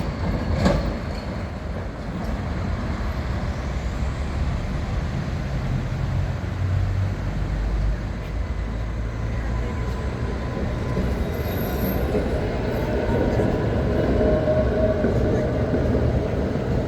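A train rumbles steadily along the rails with a continuous rolling roar, a faint squeal rising near the end.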